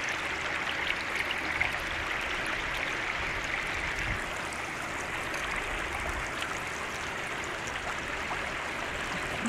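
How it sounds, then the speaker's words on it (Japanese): Water in a fast-flowing stream rushes and babbles steadily, a broad continuous wash recorded close up with no speech over it. "水の音を、じゃあ頑張って取ります。"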